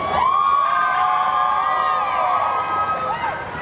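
A loud crowd cheers and whoops at a high school band battle between Eagle's Landing and Lee, with sustained shouting and high-pitched calls filling the whole stretch close to the listener.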